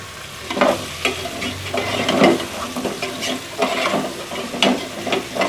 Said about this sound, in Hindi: हमने इसको 5 से 7 मिनट अच्छी तरह से फ्राई कर लेना है इसके साथ।